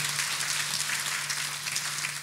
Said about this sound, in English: And a clap for Master Jesus